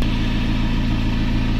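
A ZMZ 405 engine in a Gazelle Next idles while warming up, a steady close low rumble with an even, continuous pulse throughout.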